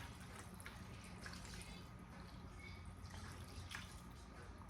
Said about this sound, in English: I put a whole can of collagen chicken broth over the top